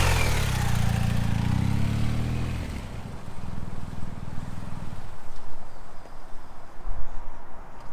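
A Suzuki VanVan motorcycle runs with a loud mid-pitched engine note for a few seconds, then drops away to quieter rumbling and wind noise as it moves off.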